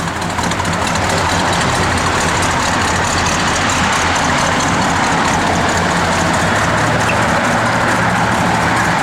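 A 1970 Oldsmobile Rallye 350 V8 idles loudly up close, a steady deep rumbling engine note that holds constant with no breaks, no voices heard.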